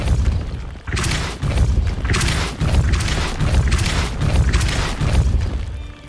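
Spells fire in Hogwarts Legacy as a run of dense, loud whooshing blasts and booms, one after another with short gaps, the Depulso cast among them.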